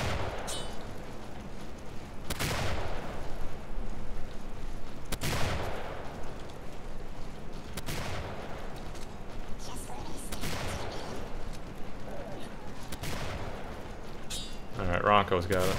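Gunfire in the video game Killing Floor, several sharp shots spaced a few seconds apart over steady game noise, with players talking throughout.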